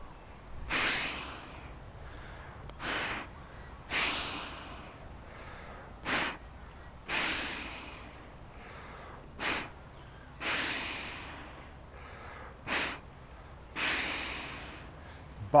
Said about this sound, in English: I'm not going to talk in this one, I'm just going to breathe.